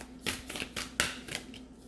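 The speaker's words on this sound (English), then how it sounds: "Let me get some little advice cards from this." Small deck of advice cards riffled and shuffled close by, a few bursts of papery flicking and soft slaps over about two seconds, quiet and alone with no talk.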